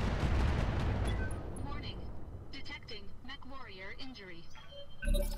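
In the mech combat game Roguetech, a weapon hit strikes the player's mech in the head with a loud rumbling blast at the start that slowly fades into tonal game effects, followed by a closing thump.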